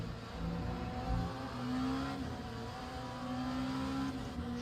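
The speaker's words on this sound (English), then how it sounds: "Those GT3 cars, or those LMP2 cars just sound so epic." GT3 and LMP2 race cars in a racing video game drone with steady mid-pitched engine tones, rising and falling slightly as they run in a pack, fairly quiet and continuous throughout.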